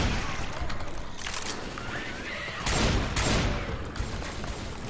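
Gunfire in the video game Left 4 Dead 2 crackles in dense, rapid bursts with a few heavier booms, loud and continuous, with players talking over it.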